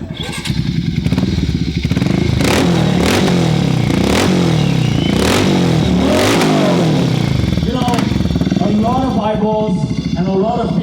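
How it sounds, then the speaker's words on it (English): A custom Harley-Davidson motorcycle engine at a bike show rumbles loudly and is revved several times in sharp bursts that rise and fall, close up, with crowd voices in the background. "give it a squeeze and let's hear this engine"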